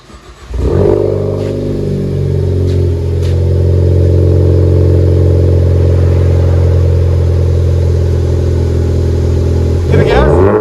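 A 2014 Ford Focus ST with a Flowmaster FlowFX exhaust starts up and holds a loud, steady droning idle, close by, with a blip of revs near the end and brief clattering at the start.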